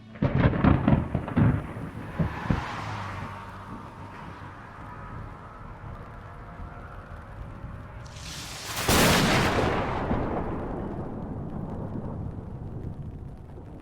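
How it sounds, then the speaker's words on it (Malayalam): Animated thunderstorm sound effect: a burst of crackling thunder up front gives way to a low rumbling roll, then a second loud sharp crack of lightning strikes around the middle and rumbles on, with no voices. "ഇടിമിന്നൽ കണ്ടോ? എങ്ങനെയാണ് ഈ ഇടിമിന്നൽ ഉണ്ടാകുന്നത്?"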